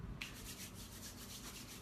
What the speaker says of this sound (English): It's my sanding pad.